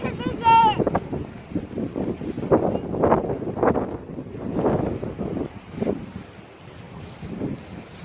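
Strong wind blowing outdoors across a grassy yard, rumbling and buffeting against the microphone in uneven gusts, with a person talking throughout over the wind noise.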